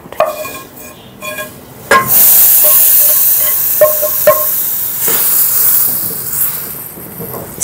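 About a litre of milk is set on the hot burner where a pan of vermicelli fried in desi ghee for sheer khurma just stood; a few metal pot clinks give way to a steady, loud hiss and sizzle.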